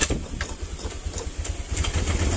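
A Honda Vario 110 scooter engine runs after being restarted, giving a steady, close idle with a rough, pulsing low rumble and faint irregular pops. The scooter has an electrical fault. No voices are heard.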